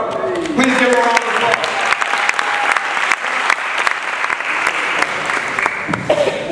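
A live audience applauds a speaker at an event in Washington, DC, with dense, steady clapping filling the room for several seconds, a few cheers and voices mixed into the crowd noise.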